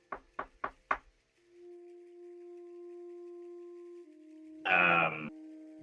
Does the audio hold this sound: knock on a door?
yes